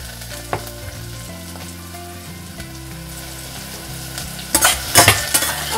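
Ingredients for a Malvani chicken curry sizzle steadily in a pan with bay leaves, the frying constant and close, then louder stirring bursts near the end.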